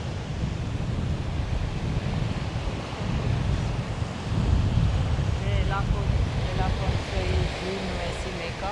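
Sea waves wash onto a beach in Cyprus, a steady broadband roar of surf mixed with wind buffeting the microphone, with faint voices surfacing briefly in the background.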